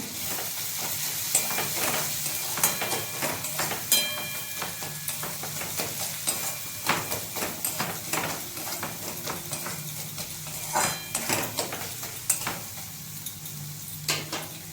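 Mixed spices are stirred in a hot frying pan, a steady sizzle broken by repeated scraping and clinking of a spoon against the pan in an uneven rhythm.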